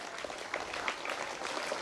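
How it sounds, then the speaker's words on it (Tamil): An audience at a charity event applauds continuously, a soft, dense patter of many hands clapping at some distance with small swells, and no voice on top. "ஸோ அவங்களுக்கு ஒரு பெரிய கைத்தட்டல் கொடுத்துடலாம்"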